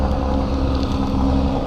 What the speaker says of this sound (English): Sorry about the car traffic if you can hear.